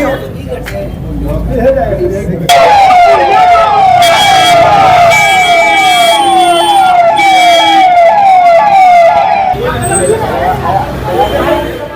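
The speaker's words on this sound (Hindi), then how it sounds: "एम्बुलेंस पहुंची है जेल के अंदर" An ambulance siren wails loudly in repeating rising-falling sweeps as the vehicle arrives inside Beur jail in Patna, with traffic noise and crowd voices underneath.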